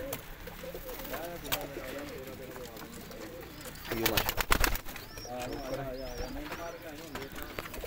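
Pigeons coo in a rooftop loft housing around 170 pairs, a steady run of soft, repeated coos with some wing flutters in the middle and someone talking over them.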